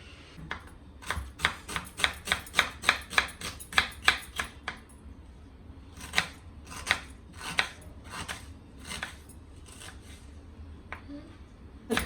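A knife chops onions on a cutting board in fast, close knocks, a burst of about a dozen rapid strikes followed by slower, spaced taps, with faint room noise and no talking.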